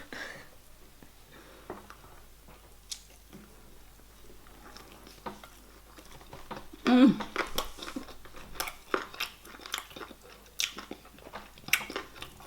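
Sweet and spicy chicken wings with sweet chili sauce are eaten close to the microphone. Soft bites, chewing and wet mouth sounds come in irregular bursts, with a louder crunchy bite midway and quiet pauses between.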